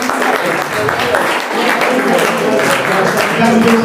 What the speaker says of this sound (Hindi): तालियां रुकनी नहीं चाहिए दोस्तों।